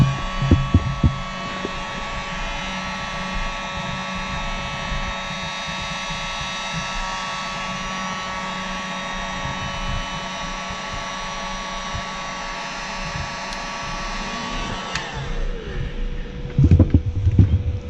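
A heat gun blows steadily on the case of a DIY solar generator, a continuous whooshing hum with a faint whine that cuts off near the end, followed by a few clunks.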